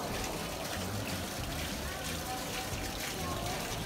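Water rushes over the turning blades of a water mill, a steady, fairly faint wash of splashing and trickling with no pauses.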